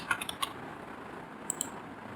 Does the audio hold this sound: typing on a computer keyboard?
yes